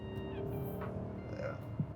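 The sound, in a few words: BMW E39 M5 engine induction noise while driving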